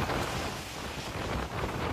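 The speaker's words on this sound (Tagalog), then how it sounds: "Halos tangayin ang mga gamit sa bahay na yan dahil sa lakas ng hangin sa Santa Maria, Ilocos Sur." Strong gusts from super typhoon Nando roar across Santa Maria, Ilocos Sur, a dense, unbroken rush of wind noise buffeting the microphone throughout.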